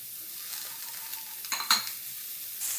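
Chopped ginger and garlic fry in a pan for Kerala-style beef cutlets, a soft steady sizzle with a couple of brief scraping stirs, close and moderately quiet.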